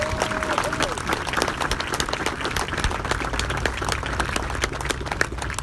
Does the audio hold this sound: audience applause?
yes